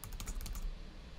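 Rapid typing of code on a computer keyboard, a quick burst of close, crisp key clicks lasting about half a second before fading into quiet room noise.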